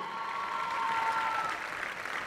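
Loud, steady audience applause at a French music TV show, filling the whole stretch at an even level with a faint tonal ring drifting through it.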